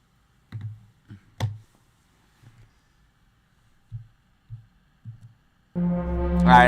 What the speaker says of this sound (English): And I'm typing that right now.